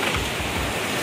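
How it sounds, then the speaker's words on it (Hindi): Steady heavy rain falls outdoors on Andaman, a dense unbroken hiss that fills the whole moment with no voices. "लेकिन ये बारिश ही कम नहीं हो रहा है।"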